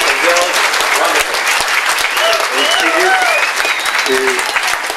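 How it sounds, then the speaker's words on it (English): A crowd at a sailboard club gathering applauds the club's members in a dense, loud, sustained burst, with voices and cheers mixed into the clapping. "So I'd like you all to join me in applauding the members of the Marimbula Sailboard Club."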